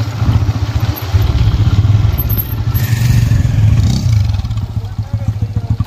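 Motorbikes ride uphill toward a suspension bridge on a rainy mountain road, close engine chugging with a steady low pulse that swells and eases, with a voice talking over it.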